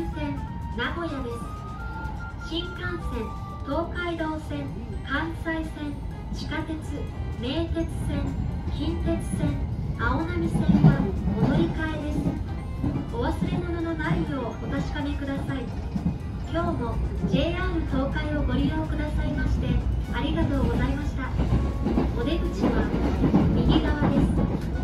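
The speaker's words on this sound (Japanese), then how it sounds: "名鉄の電車を軽々と追い抜いていくと、そういえばこの列車は区間快速という種別だった" JR Chuo Line section rapid train running into Nagoya, heard from inside a car: steady rumble with rhythmic rail clicks, while a voice talks over the ride and a chime sounds.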